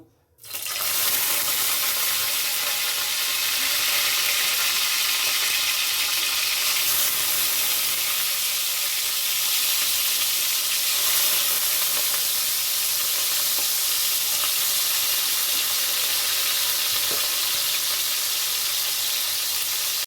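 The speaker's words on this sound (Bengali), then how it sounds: "তেল গরম হয়ে গেছে এবার মাছগুলো আমি ভেজে নেব" Katla fish pieces frying in hot oil in a Bengali kitchen, rubbed with ginger-garlic-green chili paste, giving a steady loud broadband sizzle that runs unbroken and close for the whole stretch with no talking.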